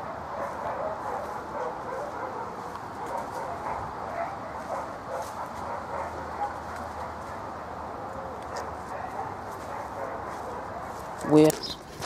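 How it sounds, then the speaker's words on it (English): Dogs bark in the distance over a steady outdoor murmur, faint and repeated, with a sharp nearby knock near the end. "Can you hear those dogs?"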